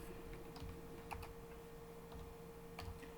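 Scattered keystrokes on a computer keyboard while entering a line of text, soft and fairly close, a few light clicks spread over a few seconds against a steady electrical hum, with no talking.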